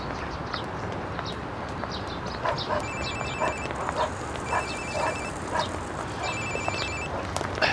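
A telephone rings in an indoor room in short repeated electronic bursts of trilling tones, fairly faint against a noisy background.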